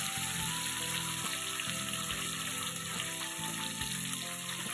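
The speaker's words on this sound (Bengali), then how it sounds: "এবার একে একে মাছগুলো দিয়ে ভেজে নেব।" Four pieces of rohu fish frying in hot oil in a pan, giving a steady, dense sizzling hiss that stays loud and close throughout with no talking.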